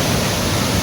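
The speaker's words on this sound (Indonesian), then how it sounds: "Lihat sobat, 2 aliran air yang jatuh dengan gagahnya." Tirto Kemanten waterfall on the slopes of Mount Raung, Banyuwangi, East Java, with two streams of falling water: a dense, steady roar, close and loud, with no pauses.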